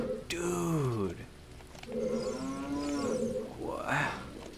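A cow moos in the video game The Legend of Zelda: Ocarina of Time, giving three drawn-out, loud bellows with falling and wavering pitch and brief gaps between them.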